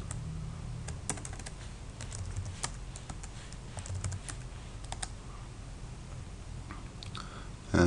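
Computer keyboard typing while Python is started in a command prompt, a steady run of close, crisp key clicks with irregular rhythm and no speech.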